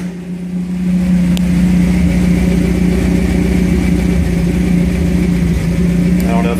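A Toyota 22R engine in a 1978 Hilux pickup cranks briefly and catches, then settles into a loud, steady, close idle with a low droning hum and a faint rattle.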